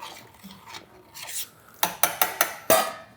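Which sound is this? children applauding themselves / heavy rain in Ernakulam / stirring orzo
stirring orzo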